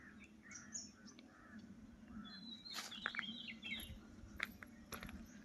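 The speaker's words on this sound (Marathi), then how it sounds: "पक्ष्यांचा आवाज देखील इथे येत आहे" Birds chirp and call outdoors near hills and trees, with scattered bright tweets and a few sharper calls over a faint, steady rural background, fairly distant and without talk.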